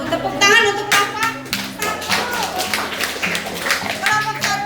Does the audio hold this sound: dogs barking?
no